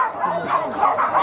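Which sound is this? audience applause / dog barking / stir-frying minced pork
dog barking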